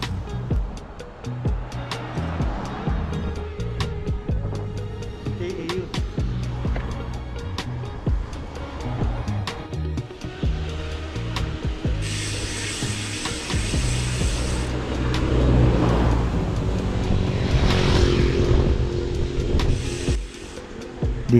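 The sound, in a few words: traffic passing on a four-lane main highway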